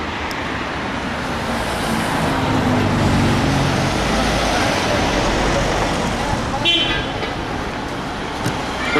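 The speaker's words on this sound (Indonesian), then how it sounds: "ini adalah Bethlehem Bus Terminal ya" Busy traffic at Bethlehem Bus Terminal, a steady dense roar of engines and road noise with a short horn toot, close and continuous, with people talking in the background.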